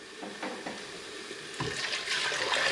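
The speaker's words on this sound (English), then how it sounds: "We're going to put the 2 litres of water in now." Two litres of water pour into a cooking pot for Maltese kusksu soup, a faint continuous splashing and trickle with small clinks, growing slightly louder toward the end.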